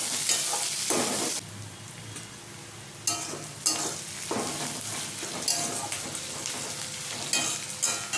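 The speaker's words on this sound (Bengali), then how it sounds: "পেঁয়াজটা ভালো করে ভেজে নেব।" Onions fry in a pan with a loud, crackling sizzle and stirring, briefly softening to a gentler hiss before bursts of scraping and spattering return.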